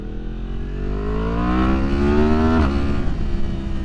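A 2023 Yamaha MT-10 motorcycle with a Leo Vince decat exhaust and a matching tune revs up close and loud, its pitch climbing steadily before dropping off sharply near the end, with no talking.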